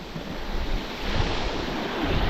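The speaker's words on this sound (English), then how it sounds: "That wind was causing me havoc." Strong wind gusting across the sea coast at Reculver while shore fishing, a steady roaring rush with surf noise and microphone buffeting that swells louder through the clip.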